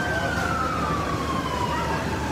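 Fire engine sirens wail during a three-alarm fire on Dauphin Street in downtown Mobile, a loud slowly falling tone over dense crowd and street noise, with voices mixed in.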